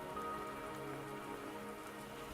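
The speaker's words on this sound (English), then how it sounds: "The rain won't last much longer." Steady rainfall from the video game Wuthering Waves, a dense continuous patter of drops on surfaces, fairly quiet and even throughout with no voices.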